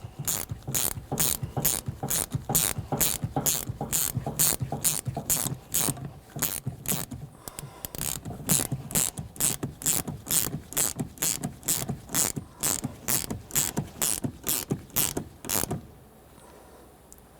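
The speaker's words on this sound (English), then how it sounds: "I'm going to use a 16mm wrench right on here, so I'm turning it clockwise" A 16mm ratcheting wrench turns a nut onto the stud of a 2004-2006 Scion xB rear shock absorber, giving a long run of evenly spaced, crisp metallic clicks, close and steady. A brief pause breaks the run midway before the clicks stop near the end, with no talking.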